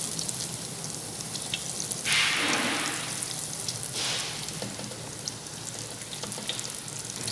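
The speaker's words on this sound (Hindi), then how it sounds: "घी गर्म हो जाए तो इसमें इसे डाल के फ्राई करें।" Khajla pastry frying in hot ghee over a medium flame, a steady close sizzle with two brief louder hissing surges as ghee is spooned over the top.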